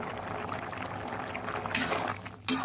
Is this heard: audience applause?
no